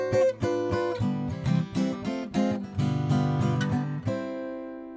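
A guitar plays the intro of a song in C, with plucked bass notes and bright chord stabs in a bouncy ragtime rhythm, close and clear, ending on a ringing chord.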